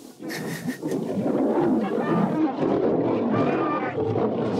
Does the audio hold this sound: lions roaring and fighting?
yes